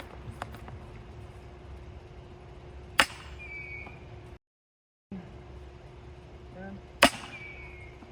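A Nerf Mega XL Harkonnen blaster fires darts, two sharp loud pops about four seconds apart over low outdoor background noise.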